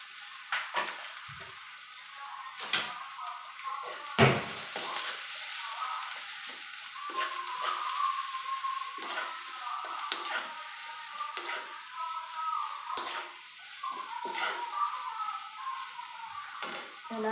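Chopped onions frying in oil in a home kitchen pan, a steady soft sizzle running throughout with occasional sharper ticks and scrapes from stirring, close and moderately quiet with no talk.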